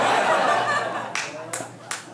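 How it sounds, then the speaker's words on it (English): Audience applause at a stand-up comedy show at Mississippi Studios, a burst of clapping that fades into a few scattered, distinct claps, with some light chuckling from the crowd. "Thank you for clapping."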